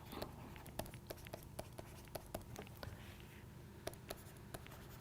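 Pen or chalk writing out physics equations, a quiet run of short scratchy strokes and taps in a steady irregular rhythm over faint room hum, close by with no talking.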